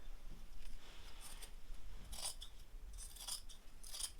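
Scissors cut fibreglass cloth to length in several quiet, crisp snips, some in quick pairs, over a soft background rustle.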